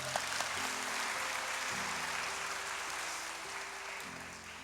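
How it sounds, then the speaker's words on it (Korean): Church congregation applauding visiting students during a Sunday worship service, a soft, steady wash of many hands clapping at a distance, with sustained organ-like tones underneath. "그 학생들에게도 큰 격려의 박수 한번 부탁드립니다"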